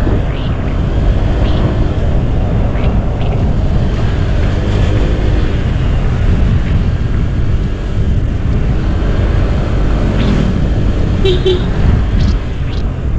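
A motorcycle rides along a road near Liloan Port in Santander, Cebu. Steady, loud engine drone and wind rumble run throughout, close to the mic, with occasional faint higher sounds in the background.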